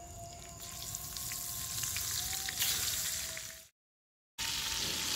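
Sambal goreng chili paste fries in a pan with a steady, wet sizzle and a faint tonal hum, then a brief dropout before the sizzle resumes.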